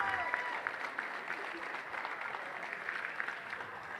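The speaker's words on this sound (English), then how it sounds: "one more round of applause for Tate Mulkey." Crowd at a women's college basketball game applauding senior player Tate Mulkey, steady sustained clapping that fills the gym at moderate volume throughout.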